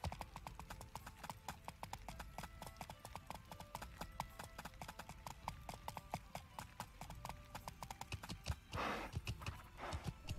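Horse hooves clip-clop in steady quick rhythm in the Life is Feudal video game, moderately near and continuous, with a short burst of noise near the end.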